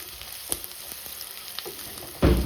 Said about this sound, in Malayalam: ആദ്യം ഒച്ചുണ്ടാക്കാതെ നല്ലപോലെ ഒരു വഴറ്റി കൊടുക്കാം കേട്ടോ.